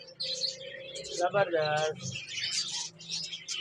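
Cockatiels chirp and whistle in repeated bursts inside a bird shop, fairly close, while someone speaks briefly over the calls.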